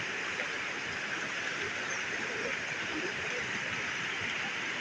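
Floodwater after heavy rain in Kerala pours over a bridge, making a steady, dense rushing roar that stays even and unbroken throughout with no voices.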